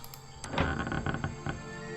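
Several low wooden creaks and thunks of floorboards shifting underfoot in the video game Detective Grimoire, irregular and close, over a faint background hum.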